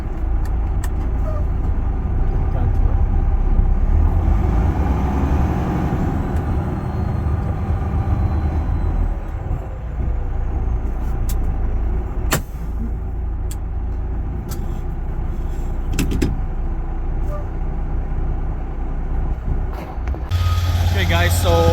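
Semi truck backing up to line up with a trailer, its reversing alarm beeping steadily over a loud idling diesel rumble, with someone talking throughout.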